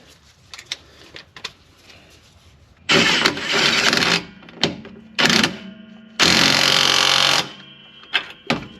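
Ratcheting of a wrench threading a bolt back into the rear shock mount of a 2004 VW New Beetle, with short clicking bursts and a few longer sustained ratchet runs, close and loud.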